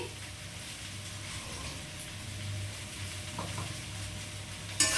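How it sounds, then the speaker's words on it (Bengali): Soft, low sizzle of potato, plantain and taro frying in a pan, faint and steady, with a small clatter at the very end. "তরকারিটা ভেজে নিচ্ছি আর চা খাচ্ছি"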